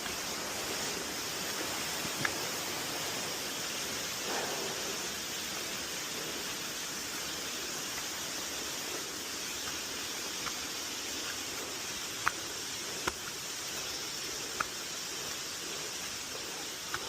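Jungle waterfall near a hidden village in Mae Kom Pong, a steady broad rushing roar held at an even level throughout, with a few faint sharp clicks and knocks on top.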